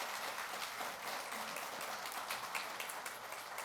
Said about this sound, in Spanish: Vamos a darles un aplauso de bienvenida